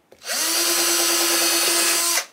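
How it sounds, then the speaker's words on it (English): Power drill boring a pilot hole into a Harmony H1213 archtop guitar body, a single close, loud whirring burst that spins up, holds steady for about two seconds, then stops. "I'm going to drill a pilot hole."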